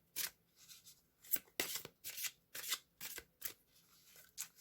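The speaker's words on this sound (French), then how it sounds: "on va aller tirer une carte des réponses angéliques" Oracle cards are handled and drawn from a deck in a series of quick riffling flicks and soft card snaps, close and fairly quiet, with short pauses between bursts.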